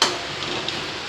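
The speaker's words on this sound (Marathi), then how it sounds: "फोडणी दिली" A tempering sizzles loudly in a pan for a potato dish, a brief, dense crackle that starts sharply and stays steady with a faint tick.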